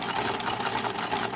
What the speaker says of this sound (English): Then I'm going to turn my machine up to its longest stitch length and sew